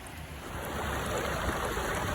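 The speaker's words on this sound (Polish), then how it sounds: "ta Wisła całkiem spokojnie tutaj płynie" Quiet, continuous rush of the Vistula River flowing calmly at Ochaby, Poland, a soft even wash with no voices.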